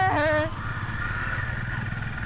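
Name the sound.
vehicle passing by on a forest road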